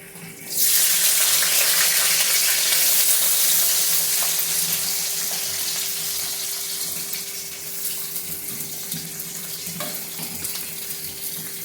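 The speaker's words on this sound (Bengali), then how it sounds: "কড়াইতে তেল গরম বসিয়ে দিয়েছি। এখন দিয়ে দেবো পেঁয়াজগুলি, পাপড়ির আকারে কাটা পেঁয়াজগুলি।" Sliced onions dropped into hot oil in a wok give a sudden loud, bright sizzle that holds steady and then gradually softens, close up with no talking.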